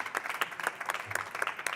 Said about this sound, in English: Big applause for her.